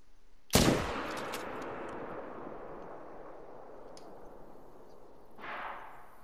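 A single loud rifle shot from a .300 Magnum fired at a bison 220 yards out in a hunting video game, a sharp crack followed by a long rolling echo that fades slowly, with a faint rustle near the end.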